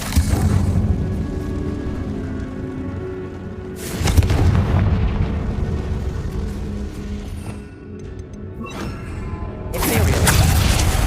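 Booming blasts from an explosion spell in Hogwarts Legacy: several heavy, rumbling detonations a few seconds apart over a continuous loud game soundscape.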